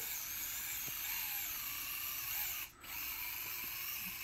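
Sniclo micro 4x4 RC car driving on a track at half throttle, a thin high-pitched electric motor whine, steady and fairly faint, with a brief dip partway through.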